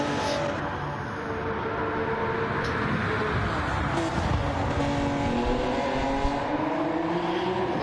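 Honda NSX race cars in a racing game roar past in a steady, loud engine drone, with pitch sweeping as they accelerate and jostle for position.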